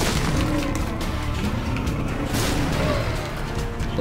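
A bomb goes off in The Binding of Isaac: Afterbirth, a loud booming blast with a broad rumbling wash that carries on steadily for several seconds and has no talking over it.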